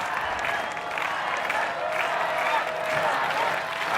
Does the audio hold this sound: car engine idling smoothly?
no